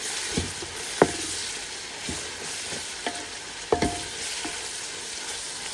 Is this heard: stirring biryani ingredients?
yes